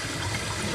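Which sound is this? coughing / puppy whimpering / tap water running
tap water running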